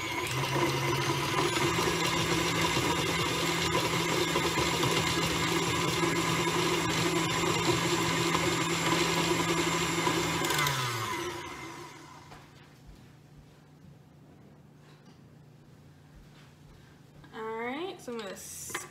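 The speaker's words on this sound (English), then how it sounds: "when I start with the butter, go ahead and beat it so it's starting to get fluffy before I add anything else" An electric mixer beats butter until fluffy for a cake, a steady loud motor whine with a grinding buzz that runs unbroken before winding down and stopping, leaving faint handling noises and a quiet background.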